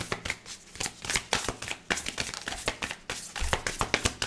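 A deck of tarot cards being shuffled, a rapid and continuous flutter of papery riffles and slaps, close up and steady for several seconds with no voices.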